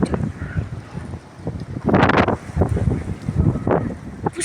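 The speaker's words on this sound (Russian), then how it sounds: "Вы слышали какой-то ветер?" Strong storm wind in Ulan-Ude buffets the microphone in heavy, rumbling gusts that swell and fade, with the loudest blast near the middle and no voices.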